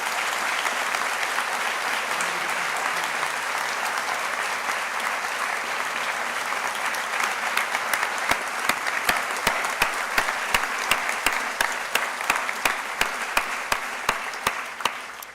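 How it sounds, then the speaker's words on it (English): Applause fills a graduation ceremony hall, a dense steady wash of many hands clapping from a large crowd, moderately loud and continuous, thinning toward the end into a few sharper individual claps. "So can we have another round of applause?"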